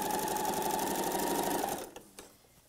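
A sewing machine runs fast and steadily while stitching a reinforcing seam on a patchwork pillow, then stops abruptly, followed by a couple of faint clicks and handling sounds; close and loud, with no talking.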